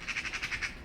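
Magpies give a rapid rattling chatter, about eight harsh squawks in quick even succession, moderately close and clear against a quiet background.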